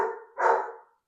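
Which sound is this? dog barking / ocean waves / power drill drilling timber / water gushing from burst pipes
dog barking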